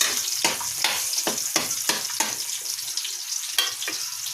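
Garlic sautés in a pan until brown, crackling with a steady sizzle broken by about eight sharp scraping stir strokes in a regular rhythm, close and fairly loud.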